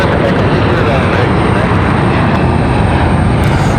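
A Delta CRJ jet roars loudly and continuously on takeoff from a runway at Raleigh-Durham International Airport, a dense, unbroken engine rush filling the whole stretch without talk.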